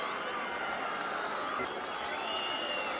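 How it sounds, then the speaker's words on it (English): A stadium crowd at a Richards Bay FC versus Durban City FC football match in the 2025 Premier Cup gives a steady, distant roar of cheering and clapping that holds evenly throughout. "It's a big cheer."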